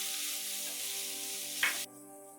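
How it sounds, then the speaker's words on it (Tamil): Chopped onions sauté in a pan for wedding-style potato masala, giving a steady, close hiss of frying, a brief clatter of stirring near the end, then an abrupt drop in level. "வெங்காயம் இந்த மாதிரி வதங்கும் போதே"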